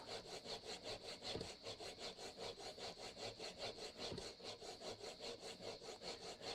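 A steel chisel is sharpened by hand in a fast, steady rhythm of back-and-forth strokes, about three a second, close and fairly quiet, with no talking.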